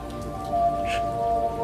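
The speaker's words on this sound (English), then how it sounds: "The silence that followed was broken only by the drip of rain and the howl of the wind." Steady rain falls on a surface with scattered drips, moderately loud and close, with a faint high tonal hum running underneath and no voices.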